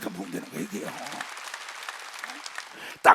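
A church congregation bursts into applause during a Korean sermon, a loud spreading clatter of clapping under the preacher's voice, then thinning to a softer patter before a sharp final thump.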